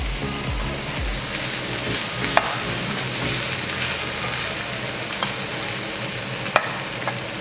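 Carrots and onion with plant-based vegetable mince frying over high heat for lasagne, a steady close sizzle and crackle with occasional clicks and stirring scrapes of a spoon in the pan, no talk.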